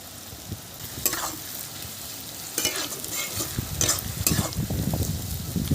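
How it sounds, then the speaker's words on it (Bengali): Steady sizzling of onions half-frying in hot oil with a little salt, broken by a few scraping stirs of a spatula against the pan, close and fairly loud. "পেঁয়াজ হাফ ভাজা হয়ে গেছে"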